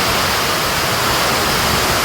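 Strong wind driving heavy rain over a flooded village road: a loud, unbroken roar of downpour and gusting air filling the scene, steady from start to finish with nobody speaking.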